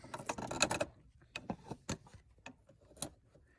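A small flathead screwdriver pries a little pink plastic piece out of a 2018 Silverado's wiring. Close, crisp plastic clicks and ticks come in an uneven series, with no talking.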